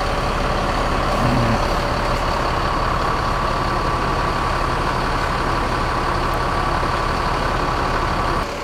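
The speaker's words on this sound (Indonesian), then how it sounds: "Berangkat bus Sempatistar menuju Medan" A Sempatistar intercity bus bound for Medan pulls out of Kampung Rambutan terminal, its loud diesel engine droning steadily near the microphone amid continuous terminal bustle, with no talk.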